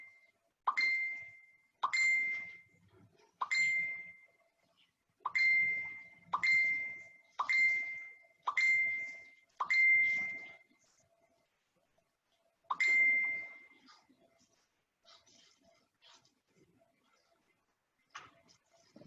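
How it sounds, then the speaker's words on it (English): Repeated notification dings or ring tones from a new phone, about nine bright chimes in a steady rhythm over roughly ten seconds, then a pause and one more, fairly close and alone with no talking. "Somehow I was getting either a phone call or something on the new phone."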